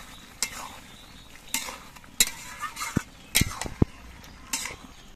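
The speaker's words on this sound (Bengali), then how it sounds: "আবার চিকেনটা আরেকবার নেড়ে চেড়ে দিচ্ছি।" A spoon stirs chicken in a pan while it sizzles, with a series of sharp scraping and clinking strokes at an irregular rhythm over a soft, steady frying hiss. The chicken is being cooked down covered, together with spinach and coriander greens.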